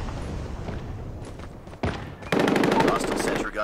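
Gunfire in Call of Duty Mobile, with a few scattered shots followed by a sustained rapid automatic burst at close range, while a player talks over it.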